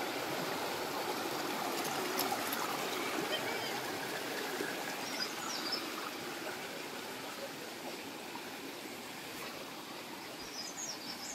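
Cold water flows steadily at a bathing spot, a continuous broadband rush and trickle that stays even throughout, with faint bird calls in the background.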